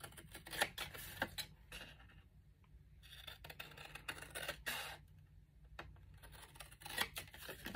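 Repeated crisp snips of worn scissors slicing through stiff card stock, irregular bursts with brief quiet pauses between cuts, close up and without speech.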